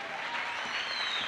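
A church congregation at a Sunday service claps together in a dense, steady burst, fairly near, with faint voices mixed underneath.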